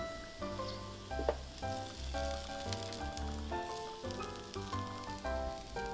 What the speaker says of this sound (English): I'm gonna roast each side of the pork for 4 minutes, 8 minutes in total.